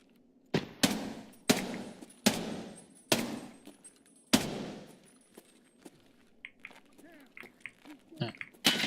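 Sharp gunshots in Escape from Tarkov ring out in a rapid irregular series, about seven loud close cracks with short decaying tails, followed by quieter scattered rustles and faint distant noises.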